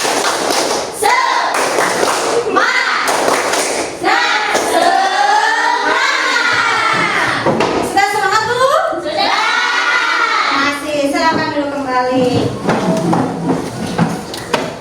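A class of children performs the 'tepuk semangat' clapping chant, loud and close, with voices chanting in unison over rhythmic claps and thumps throughout.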